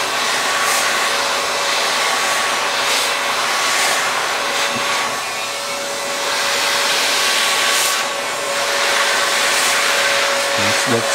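Heat gun blowing a steady, loud rush of hot air while evenly shrinking an EMI shielded wrap-around heat shrink sleeve over parts, continuous and close with small shifts in level.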